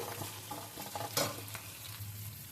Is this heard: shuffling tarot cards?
no